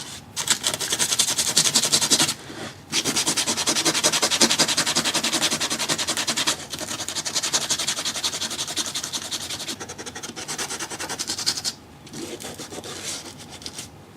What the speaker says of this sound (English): I'm going to start with a nice big grit, a P80, to get rid of the